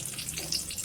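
Bay leaves dropped into hot oil in a pan give a brief, close crackling sizzle, a soft frying hiss lasting under a second.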